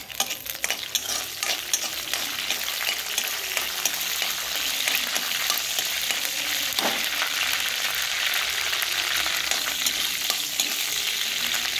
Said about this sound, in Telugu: సో అదే ప్యాన్లో కరివేపాకు వేసుకొని, అలాగే ముందుగా అది కొంచెం వేగనించాలి కరివేపాకు